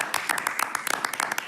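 An audience applauds a guest on a French talk show, a brief burst of dense, fairly close hand clapping with scattered sharper claps.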